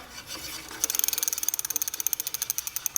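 A brake adjuster is turned with a ratchet, making a quick, even run of sharp metallic clicks. The clicks are close and fairly quiet, with no talk over them.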